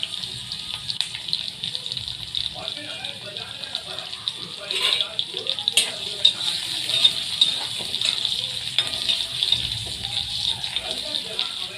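Green chillies fry in a pan for a bhindi dish, giving a steady bright sizzle with scattered crackles and pops throughout.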